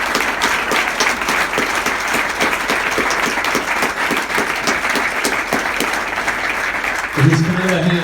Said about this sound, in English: if you want to keep the applause going, go ahead